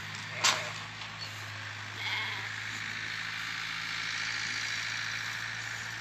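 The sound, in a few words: sheep bleating while eating feed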